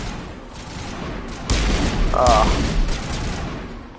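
Sniper rifle fire in a shooter video game, a few loud sharp shots with a boom in the middle against game background noise.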